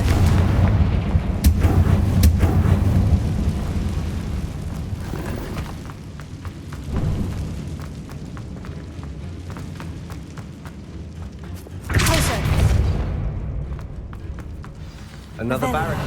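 Confringo blasting-spell explosions in Hogwarts Legacy, deep rumbling booms with crackling debris in a collapsing building, with a sharp fresh blast partway through and another near the end.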